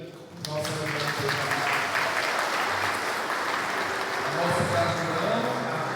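Dense, sustained clapping from a large church congregation at a Corpus Christi Mass rolls on evenly from start to finish, with faint voices mixed underneath.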